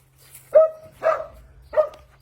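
Puppies at a shelter give three short yips or barks, spaced apart with quiet gaps between them, fairly close.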